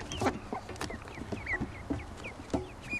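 A mallard duck family with young ducklings, giving thin high peeping calls and occasional lower clucking notes, close by and scattered in quick irregular bursts over quiet background noise.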